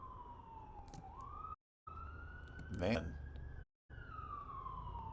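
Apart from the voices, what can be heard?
emergency vehicle sirens outside at night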